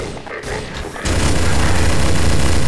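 A loud gunshot in the Stalker video game, a sudden blast that gives way to a dense, roaring wash of noise that holds for the remaining seconds.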